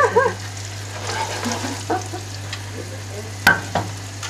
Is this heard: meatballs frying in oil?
yes